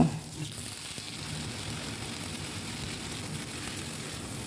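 Chopped Malabar spinach sizzling in a pan with frying okra, a steady soft hiss and crackle after a brief louder onset.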